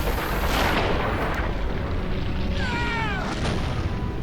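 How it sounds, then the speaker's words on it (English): Incoming artillery in Valkyria Chronicles booms as a continuous, loud, low rumbling roar, with a thin whistling whine sliding through near the end. "That sounds to me like incoming artillery."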